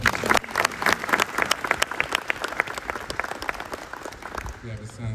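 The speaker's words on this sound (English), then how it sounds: "let's go ahead and clap it up for that as well" An audience claps at a US Air Force retirement ceremony, a dense burst of applause that starts strong and gradually thins out, with a voice coming in at the end.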